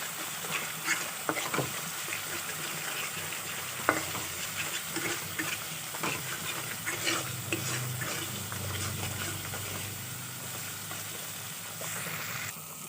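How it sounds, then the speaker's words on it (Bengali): Spices with turmeric and salt stir-fried in a pan for a vegetarian soybean dish, a continuous low sizzle with repeated spatula scrapes and clinks against the metal, close and steady with no talking. "এখন মশলাটাকে ভালো করে কষিয়ে নিতে হবে"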